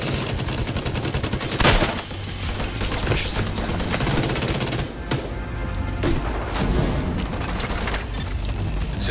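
Sustained gunfire during a cover-fire exchange in The Division 2 video game at the Jefferson Trade Center: rapid, continuous automatic bursts with sharper individual shots and booms, loud and close throughout.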